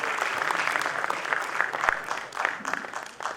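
An audience at a film festival event claps steadily as a DJ comes on stage, a dense patter of applause from a mid-sized crowd throughout.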